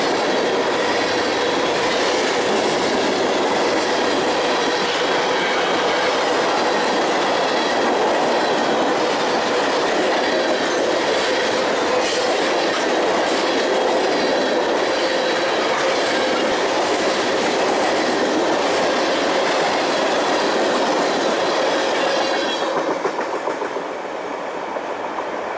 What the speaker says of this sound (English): this northbound happened to be going by at just the right time